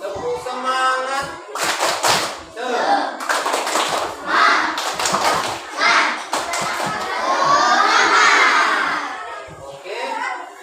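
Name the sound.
schoolchildren doing a clapping chant in class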